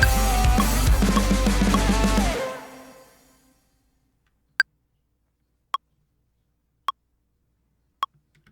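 A song ends and fades, then an Ableton metronome click track ticks alone in the gap between songs, four sharp evenly spaced clicks about a second apart in near silence.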